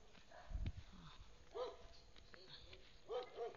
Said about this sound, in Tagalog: May aso doon.